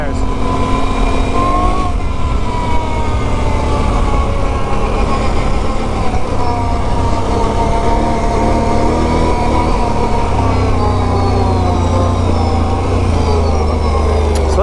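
A Can-Am Renegade 1000 ATV on Tusk Megabite tires rides in two-wheel drive, its engine a loud, steady drone with shifting revs throughout and a rougher rumble entering in the last few seconds.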